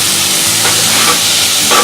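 Chopped tomato hitting hot oil and spice paste in a pan for egg biryani: a loud, steady sizzling hiss that swells slightly as it is stirred, with no voices.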